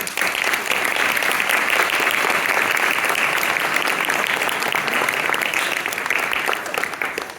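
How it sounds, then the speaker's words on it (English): A theater audience at a youth musical gives sustained, dense applause welcoming the director, steady and loud across the whole stretch with no voices over it. "A round of applause, please."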